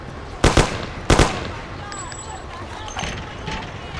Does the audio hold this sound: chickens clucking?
no